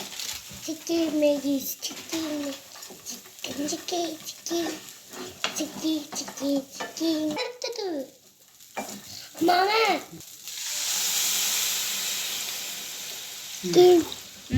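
Maggi noodles and masala sizzle and fry in a pan while being stirred, giving a steady crackle and scraping under continuous talk; a voice joins in, and a louder hiss swells near the end.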